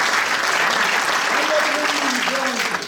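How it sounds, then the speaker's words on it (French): Steady applause from a small theatre group fills the whole stretch, with a voice speaking faintly underneath. "On l'applaudit aussi de loin."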